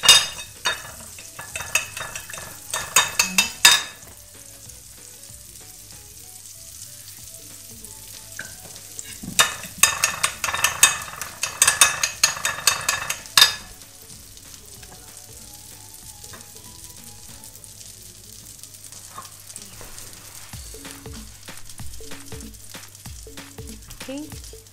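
Pork belly frying in hot butter in a pan, with bursts of loud crackling sizzle and spattering that swell and fade, under a steady low hum and quieter stretches of gentle bubbling.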